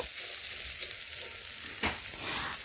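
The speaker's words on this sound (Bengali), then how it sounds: "আমি আবারও নাড়াচাড়া করে নিলাম দেখুন ভাজা প্রায় হয়ে এসছে" Bitter gourd and potato slices frying in oil, a steady soft sizzle with a brief louder scrape of stirring near the end; no voices.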